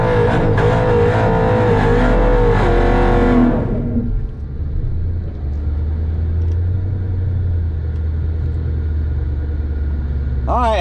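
A ProCharged 5.7 Hemi car running E85 fuel launches on a timed drag strip run, its supercharged engine roaring loud and harmonic-rich for several seconds before cutting to a low idle rumble as it fades down the track.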